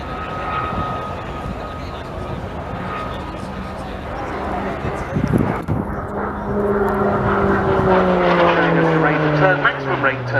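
An aerobatic aircraft performing spins and outside loops at the RIAT 2022 airshow, its engine droning and shifting pitch in the distance while a commentator talks throughout.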